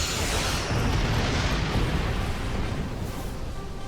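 Starship weapons fire and explosions in the Star Trek Online video game, a dense continuous roar of booms and blasts with no clear gaps, loud and steady throughout.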